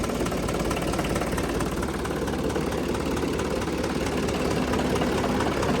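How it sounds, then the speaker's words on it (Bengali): A Mahindra tractor engine running at a steady idle, a loud, close, continuous diesel rumble with a fast, even knocking pulse. "তবে ইঞ্জিন সাউন্ড ভালো আছে পাওয়ারও মোটামুটি ভালো আছে"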